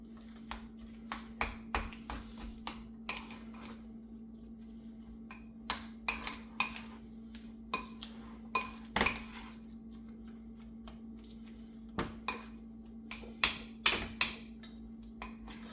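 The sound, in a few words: mixing compound butter with peppers in a bowl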